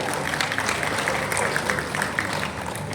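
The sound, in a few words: audience applause welcoming the Director General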